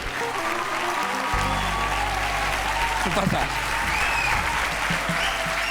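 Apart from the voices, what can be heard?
audience applause for a comedian coming on stage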